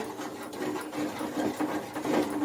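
Cooked dal is churned with a wooden churner, giving a continuous rapid swishing and rattling texture with uneven pulses, close and moderately loud, with no talk.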